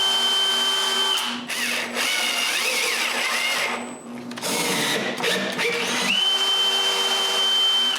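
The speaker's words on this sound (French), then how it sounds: "je peux finalement visser les roulettes au bas du meuble" A power drill drives screws to fix casters onto the bottom of a wooden ten-drawer workshop cabinet, giving several loud, steady whirring runs separated by short pauses and stop-start bursts.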